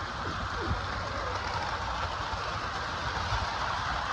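A Lionel Great Northern model electric train set with a 4-8-4 locomotive hums and rattles steadily along its track, a continuous mechanical whir with faint clicks, no voices.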